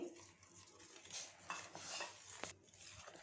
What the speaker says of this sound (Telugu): ఇప్పుడు ఈ రవ్వ వేసుకొని ఇందులో కలుపుకుందాము